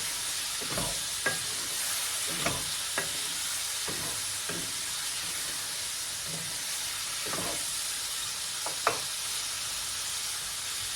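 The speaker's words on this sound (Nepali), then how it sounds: "त्यही भएर मैले अलिक ठुलो कराई लिएको छु आज मासु भुट्नको लागि" Mutton fries in a large kadai with a constant loud sizzle, broken by intermittent scraping and knocking as a utensil stirs the meat.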